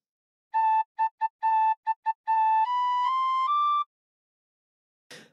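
Tin whistle playing a phrase of Drunken Sailor: a run of short repeated notes followed by three longer rising ones, clear and close, with a brief noise at the end.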